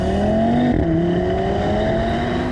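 An Audi TT RS coupe's engine drones steadily while driving, with a clear tonal hum that briefly dips in pitch as it shifts, then climbs again smoothly under a constant road rumble.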